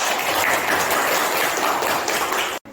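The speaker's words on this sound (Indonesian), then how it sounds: "Kasih tepuk tangan untuk kelompok 1." Classroom applause for a student group after their presentation, a steady dense patter of many hands clapping at close range, cut off abruptly at the end.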